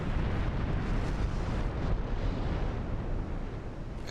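Naval gunfire in the warship game Ultimate Admiral Dreadnoughts, heard as a dense, continuous rumble of heavy cannon blasts and booming, loud and sustained with no clear gaps.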